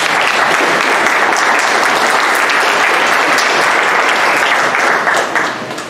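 Dense, steady applause from an audience at the opening of a literature and Amazon dialogue event, loud and sustained before tapering off at the very end, with no voices over it.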